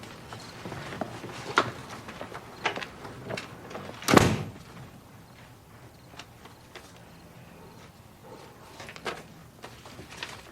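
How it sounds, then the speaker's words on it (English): A front door opening indoors, heard as one fairly loud, sharp knock-like impact about midway through, set among quieter scattered taps, shuffles and room noise. "I thought I heard the front door."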